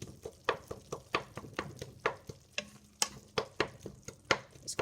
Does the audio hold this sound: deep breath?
no